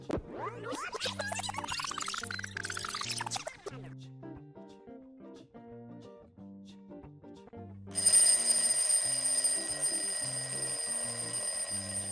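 An alarm clock rings in repeated electronic beeping patterns, first a rising chirping sequence and then steady beeps. Partway through, a bright high tone layer cuts in and continues under them at close range.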